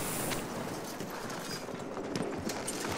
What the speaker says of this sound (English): I'm so lucky I'm on this horse, yo.